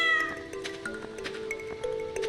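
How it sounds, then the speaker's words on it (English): A cat meows repeatedly, close and loud, with drawn-out whiny cries over soft background sounds. "Fucking cat, move!"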